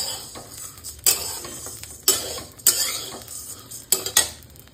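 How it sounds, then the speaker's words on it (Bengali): Rice frying in a pan while a metal spatula stirs it, making repeated sharp scrapes and clanks over a steady background hiss, close up and without speech. "তো চালটাকে লাল লাল লাল লাল করে ভাজতে হবে।"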